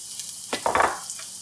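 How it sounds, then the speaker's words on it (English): Onion and garlic drop into hot olive oil in a pan, setting off a sudden crackling sizzle that swells briefly and settles into a steady hiss. "We're going to add our onion and garlic right in."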